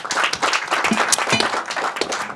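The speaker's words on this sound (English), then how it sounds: "Let's give him a round of applause." A crowd at a UN General Assembly media breakfast on tuberculosis claps in sustained applause, dense and fairly loud, with no talking over it.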